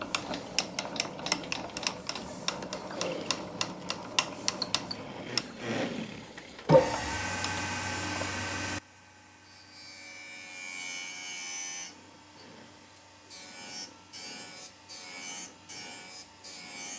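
The jaws of an HSK32 bench vise are match ground. Rapid ticking and scraping give way to a short, loud, steady grinding burst, then a quieter machine hum with intermittent rasping.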